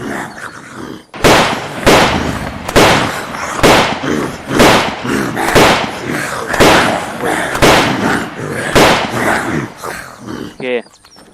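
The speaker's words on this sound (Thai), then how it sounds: "ปืนดีนะ แต่เสียงมันเงียบๆฮะนะ" A new gun in the video game Unturned fires about a dozen loud, sharp shots at a steady, even rhythm, each a crisp burst with a short tail, close and dominant throughout.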